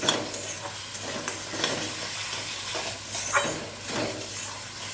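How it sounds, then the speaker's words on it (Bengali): Previously fried potatoes sizzle steadily in a pan with spice paste while being stirred, giving a continuous close hiss with recurring scraping strokes of the spoon throughout, no talk. "আলুগুলো দিয়ে ভালো করে মশলার সাথে একটু ভেজে নেব।"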